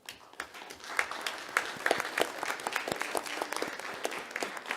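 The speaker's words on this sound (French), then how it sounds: "vous méritez une belle main d'applaudissement" Applause from the audience at a Verdun borough council meeting, moderately quiet, with distinct individual claps from a small gathering forming an uneven patter that rises quickly and carries on steadily.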